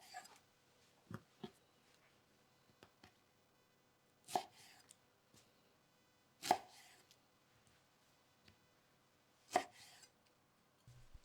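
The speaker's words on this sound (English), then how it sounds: "Peel, cut in half, then thinly slice white onion." Knife slicing a peeled, halved white onion on a cutting board, a few sharp, sparse chops spaced irregularly apart, close and fairly quiet.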